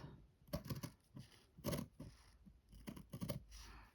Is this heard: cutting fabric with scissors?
yes